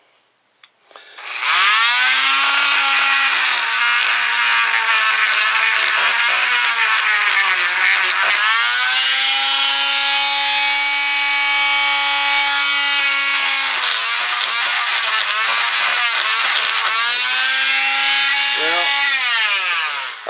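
An angle grinder with a small grinding wheel cleans up a corroded thermostat housing on a Fisher 30 boat, a loud, close, continuous high whine whose pitch dips and recovers as it bites into the metal.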